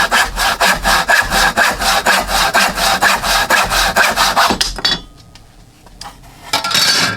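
A hand saw cuts through lumber in fast, even back-and-forth strokes, loud and close, rasping about twice a second. It then slows and pauses before a final scrape, with no talk.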